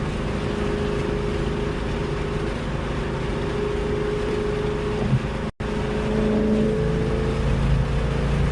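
Steady, smooth engine drone from a 2024 Ford Mustang GT with a 5.0 V8 out on the road, a continuous cabin-level rumble with a brief dropout near the middle and no speech.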